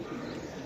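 A big sky-blue pigeon gives a short, low cooing murmur up close, lasting under a second with no one talking over it.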